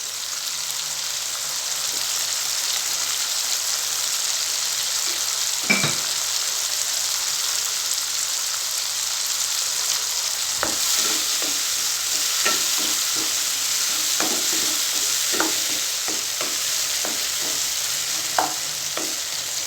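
Curry leaf kulambu masala frying in a pan, a constant bright hiss of oil with scattered scrapes and taps of a spoon stirring, close up with no one talking.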